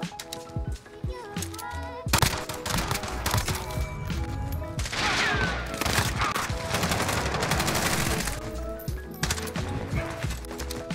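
Rapid gunfire in Modern Warfare crackles in dense bursts and sustained automatic volleys throughout, loud and close, with excited voices now and then.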